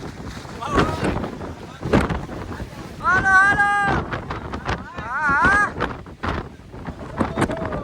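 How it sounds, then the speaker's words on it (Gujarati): Gusty wind on Mount Girnar buffets the microphone in heavy blasts while people shout and talk nearby, with a brief high whistling tone. "ખતરનાક પવન આવે"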